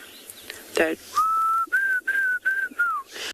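A safari guide whistles an imitation of a bird call at sunrise on the Tswalu reserve: a short rustle, then five sustained, close whistled notes in a steady series, each slightly bending at the end.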